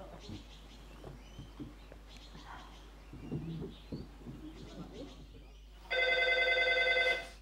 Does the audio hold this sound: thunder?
no